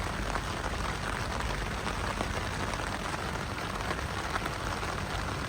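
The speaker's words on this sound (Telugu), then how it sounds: "ఎక్కువ వర్షం కూడా ఎక్కువ అవుతుంది, గట్టిగా అయింది వర్షం కూడా" Heavy, steady rain drums on a taut tent surface close by, a dense continuous patter with no pauses and no voices.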